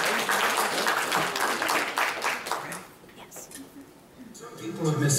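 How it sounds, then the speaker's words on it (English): A church congregation clapping in praise to the Lord, a full round of hands that runs strong and then fades midway, with soft murmuring and a voice picking up near the end. "give the Lord a hand clap of praise"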